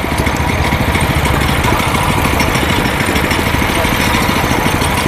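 A small petrol engine on a chain cultivator for weeding and earthing up vegetable and soybean rows, running steadily at a loud, close, even throb with a rattling mechanical edge throughout.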